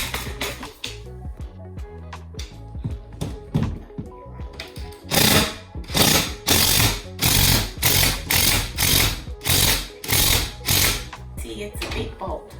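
A power drill drives a big bolt in a guest room makeover, with a loud run of rapid ratcheting bursts in the second half after quieter clicks and handling noise.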